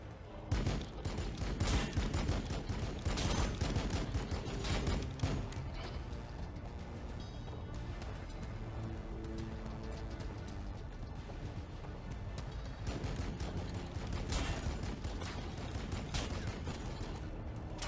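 Long-range gunfire aimed at Necron warriors in the Warhammer 40k: Battlesector game, with heavy volleys and rapid bursts of shots and booms rolling on continuously, loud throughout.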